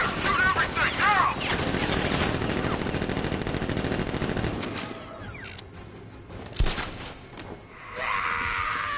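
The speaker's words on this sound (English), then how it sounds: "Open fire! Shoot everything, now!" Heavy gunfire in Batman: Arkham Knight: a loud, sustained burst of rapid automatic shots with mechanical clatter and breaking sounds for several seconds, then the shooting stops and a few scattered impacts and rattles follow.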